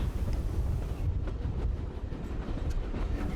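A steam train on the Dartmouth Steam Railway rumbling along the track with low, steady rolling noise and faint rhythmic clicks, heard from on board.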